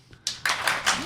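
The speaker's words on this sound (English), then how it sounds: "Please clap if you think Finger Man and the Prince banged" Small live audience at a comedy podcast recording claps in scattered bursts after a few quiet moments, uneven and short, with a voice briefly audible at the end.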